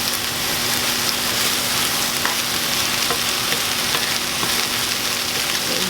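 Honey ginger salmon sizzles in a hot pan, a continuous crackling hiss with small pops, close and steady throughout, with no talking.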